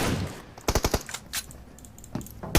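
Rapid automatic gunfire in the mobile battle royale game PUBG Mobile during a team deathmatch final: a quick burst of several sharp shots, a pause, then scattered single shots and another burst near the end, loud and close with no talk.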